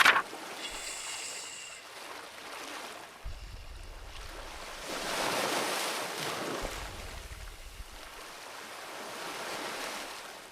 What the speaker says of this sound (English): The waves move towards the shore, in and out, in, out, in, out.